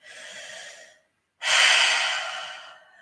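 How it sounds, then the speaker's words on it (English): Slow, deep breaths during yoga practice sound close and soft: a gentle exhale, a brief pause of silence, then a fuller, louder breath that tapers away. "starting to deepen your breath"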